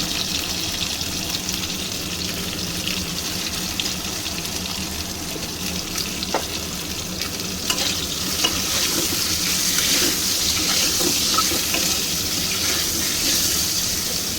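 Eggplant frying in a pan, being prepared for a hilsa-and-eggplant curry: a steady, dense sizzle of hot oil throughout, close and fairly loud, with occasional faint clinks of stirring.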